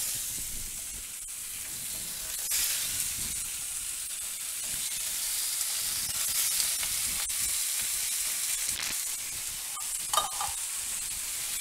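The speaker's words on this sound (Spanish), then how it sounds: "Vámonos a la plancha. Está bien caliente, amigas, para poner nuestro rico tasajo." Tasajo, a dried beef, sizzles on a hot griddle with a loud, continuous hiss that swells slightly and carries a few crackles and pops near the end, with no voices.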